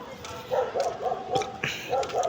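Dog barking outdoors at a house, a run of repeated sharp barks at a moderate distance, evenly spaced, with faint background noise.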